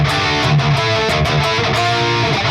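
An electric guitar plays the ascending part of a riff with a distorted tone, quick picked notes stepping upward in a brief, loud, close run.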